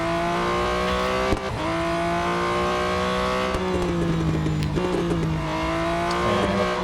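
Porsche 911 RSR racing car engine in the Real Racing 3 game, a steady high-revving drone that holds and drops back at each gear change, with brief shifts several times over the run.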